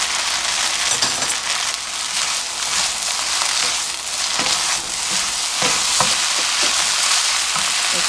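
Bean sprouts sizzle and crackle steadily as they are stir-fried in a hot pan for soy-sauce japchae, with the spatula scraping now and then, close and continuous throughout.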